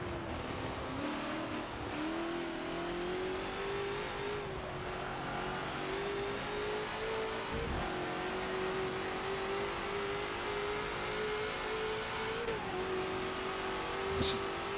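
Ford GT40 race car engine in the Forza racing game on the Nürburgring Nordschleife, a steady high drone held at near-constant pitch with brief dips at gear changes, running continuously under faint background noise.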